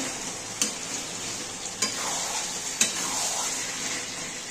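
Chicken liver sizzles quietly as it fries in a pan, while a utensil stirs it with three sharp scrapes spaced about a second apart over a steady low hiss.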